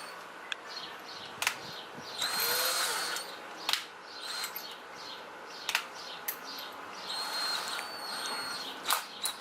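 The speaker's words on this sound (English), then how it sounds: "These are not screws, you're gonna have to drill them out." A power drill drilling out rivets on a Volkswagen Passat door whirs in short bursts between sharp clicks and metallic taps, while birds chirp faintly in the background.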